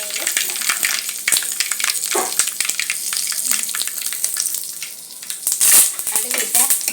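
Mustard seeds frying in hot oil in a pan for chicken curry, a dense, bright sizzle packed with rapid crackling pops, close and continuous.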